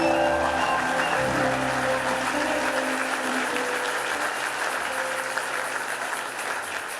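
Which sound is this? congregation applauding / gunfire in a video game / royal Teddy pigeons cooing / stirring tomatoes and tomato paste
congregation applauding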